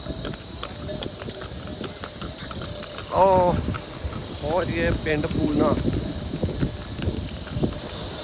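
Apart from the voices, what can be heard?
horse hooves clip-clopping on mountain trail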